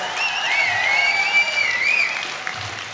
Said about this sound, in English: One more time, give a round of applause, please,